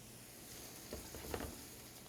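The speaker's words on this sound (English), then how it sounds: "So we're just going to saute that up nicely." Food sautéing in a pan with soy sauce gives a faint, steady sizzle, with a couple of soft stirring scrapes and taps in the middle.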